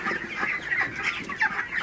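Broiler chickens on a farm clucking softly, several birds murmuring and chirping in short overlapping calls, fairly quiet and close with no talk.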